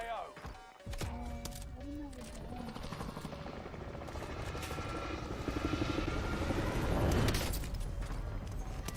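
A helicopter in a Battle Royale video game drones steadily with a rotor-and-engine roar beneath a voice talking, the sound swelling louder toward the end.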